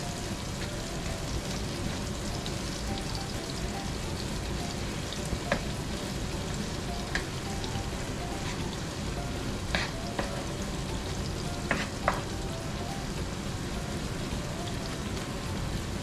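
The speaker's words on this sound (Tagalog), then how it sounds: "Ipisa-pisahin ko lang itong kamatis mga boss para mas malasa." Tomatoes sizzling and being pressed in a hot frying pan during cooking of squid adobo, with a steady crackling fry throughout and occasional sharp clicks of a utensil against the pan.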